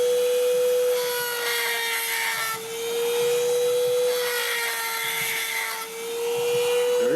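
A sharpening stone chamfers the top edge of a cylinder bore in a CAT 3126 diesel engine block, giving a steady, high, droning grind that holds nearly unbroken for several seconds, close and alone.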